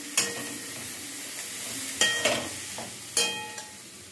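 Paneer rice mixture stirred in a pan over a steady frying sizzle, with three or four distinct scrapes and clinks of a spoon against the pan, close and clear.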